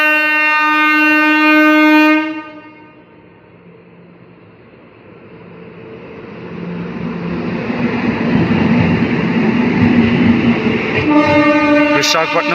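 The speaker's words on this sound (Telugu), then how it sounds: "గాంధీధామ్ నుంచి విశాఖపట్నం వెళ్ళే ఎక్స్ప్రెస్ ఇది, వీకెండ్ ఎక్స్ప్రెస్" A Gandhidham–Visakhapatnam weekend express train passes, opening with a loud sustained horn that cuts off, then a rising rumble of wheels and carriages rolling by, ending with a second horn blast near the close.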